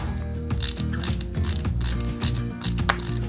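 Ratcheting clicks and small mechanical turns come from tightening parts on a 1/8-scale Volvo Amazon 122S model kit, a close series of short bursts with brief pauses, no voices.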